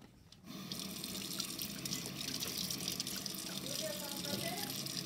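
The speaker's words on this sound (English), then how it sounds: "right now, guys, we're gonna be washing our hands" A tap runs into a sink for hand washing, a steady close rush of water starting abruptly after a brief quiet moment, with splashing variations and faint speech mixed in.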